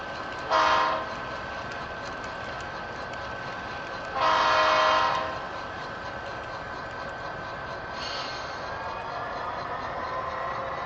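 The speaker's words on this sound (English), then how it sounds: "Oh yeah, listen to that beautiful turbo diesel." A model Santa Fe turbo diesel locomotive on a home layout sounds two long horn blasts and a fainter third over a steady engine hum, close and clear.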